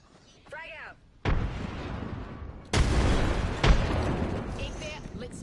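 A frag grenade bursts in Apex Legends as a loud, close blast, followed by a second heavy detonation and sustained rumbling gunfire, with a short voice heard before the explosions.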